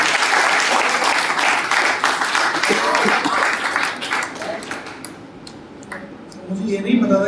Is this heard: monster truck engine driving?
no